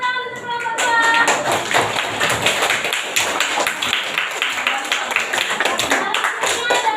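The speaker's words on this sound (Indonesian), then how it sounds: "Tepuk tangan untuk kelompok 2." Classroom applause for a student group after a presentation on types of waste, brisk close clapping from many hands, steady and loud throughout with a few louder thumps.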